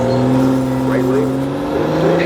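BMW car driving at a track day, a steady engine drone with sustained tones that shift slightly as it runs, close and loud, with a voice talking over it.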